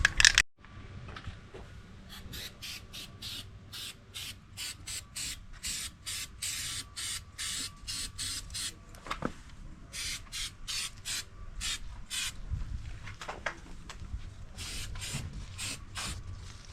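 Bed liner is sprayed onto Suzuki Grand Vitara plastic panels in a long run of short, regular hissing bursts with brief pauses between them, fairly quiet and close.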